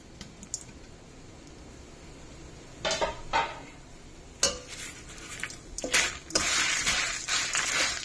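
Toor dal fries in a pan while a metal spoon stirs it, with scattered scraping clinks and clatters, then a denser sizzling rush of stirring near the end.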